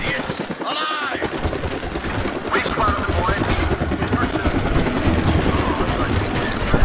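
A helicopter in the video game Deadlight chops loudly and continuously in the foreground, joined by bursts of gunfire-like crackle and scattered game effects.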